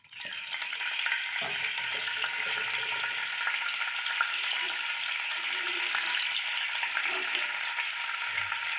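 Oil for egg curry sizzles loudly and steadily in a pan where potatoes were just fried, a continuous close hiss with faint stirring beneath, running with no talk.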